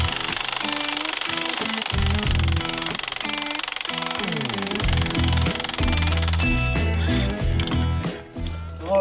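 Milwaukee 1-inch D-handle cordless impact wrench on an extended anvil busting nuts loose, loud repeated hammering bursts with rapid rattling impacts, close and continuous for most of the stretch before a brief pause near the end.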